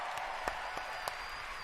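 Audience applause at the Bethesda E3 2019 show, a steady patter of many hands clapping with a few sharper claps standing out, heard from a distance and fairly faint.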